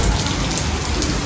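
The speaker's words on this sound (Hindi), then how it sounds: "बारिश देख लो चले" Steady rain pours down in a dense, even hiss along the Haryana border, loud and continuous for a short stretch with no voices.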